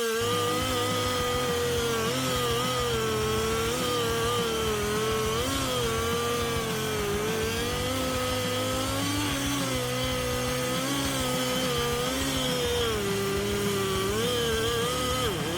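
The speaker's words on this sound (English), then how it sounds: "When the engine runs, the chain spins at high speed, cutting through it effortlessly." A chainsaw running and cutting wood, a loud continuous engine drone whose pitch wavers up and down as the chain bites, steady throughout with no talking.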